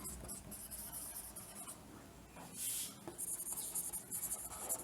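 Marker or chalk scratches and rubs across a board in short, uneven strokes while a relative molecular mass lesson is laid out, fairly faint and close, with no talking.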